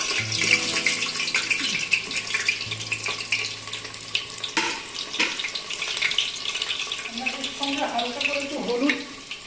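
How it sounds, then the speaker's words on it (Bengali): Potatoes frying in hot oil inside a pressure cooker while cooking Bengali-style mutton kasha, a steady broadband sizzle and crackle that persists throughout, with brief pops and stirring clatter near the end. "তেলটা গরম হলে আমরা আলুগুলো দেবো, আলুটা একটু ভেজে নেব।"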